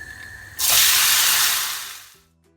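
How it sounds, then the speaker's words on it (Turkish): Drained lamb liver pieces hit hot oil in a pan with a sudden loud, broad sizzling hiss that holds steady for over a second, then fades away. "İyice sularını süzdürdüğüm ciğerlerimi ilave ediyorum."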